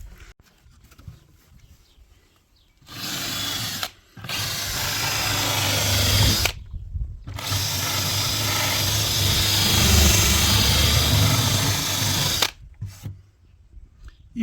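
Power drill spinning a metal wire brush against a painted door, a loud harsh scratching whir in long bursts broken by brief pauses, close up with no talk.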